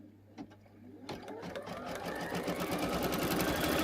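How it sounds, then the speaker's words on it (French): Embroidery machine starting to stitch an appliqué apple on a tea towel: after a few soft clicks, rapid mechanical stitching begins and builds into a steady, close, rhythmic whir and tapping that continues to the end. "Et maintenant, je vais le mettre sur la machine. Voici la pomme que je vais broder."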